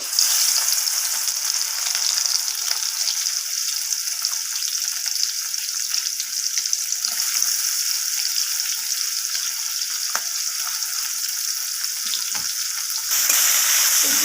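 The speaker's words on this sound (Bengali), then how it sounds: "নুন আর হলুদ মাখিয়ে রাখা চিংড়ি মাছগুলোকে তেলের মধ্যে ছেড়ে দেব" Shrimp coated in salt and turmeric fry in hot oil, giving a steady, loud, close sizzle that runs unbroken throughout, with a few faint clinks and a brief surge near the end.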